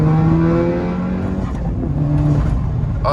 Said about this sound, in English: the nice turbo growl